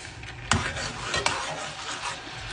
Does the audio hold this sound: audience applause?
no